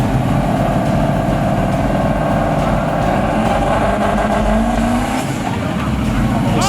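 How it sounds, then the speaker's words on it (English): Chevy Camaro street drag cars race hard side by side, a loud, constant engine roar with rising pitch sweeps as they accelerate, with commentary talking over it. "A couple of Chevy Camaros that have been hard charging all night."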